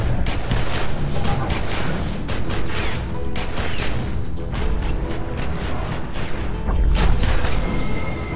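Continuous dense gunfire and crashing impacts from an in-game fight in Train Sim World, heavy bursts rolling on without pause for the whole stretch.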